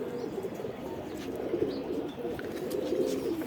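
Indian Kaldom pigeons, male birds, coo steadily in a low, throaty, rolling drone, several calls overlapping close by with a few faint chirps above and no talking.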